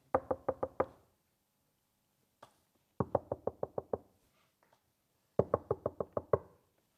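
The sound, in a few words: knocking on a window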